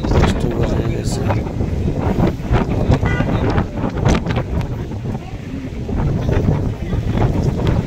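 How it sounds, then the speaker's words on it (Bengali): Strong wind roars during a heavy rainstorm on a Dhaka street, buffeting the microphone in loud, rumbling gusts throughout, with a voice talking under the blustering noise. "আর এই পাশে দেখেন করলাম কি পরিমাণ বাতাস, প্রচণ্ড বাতাস"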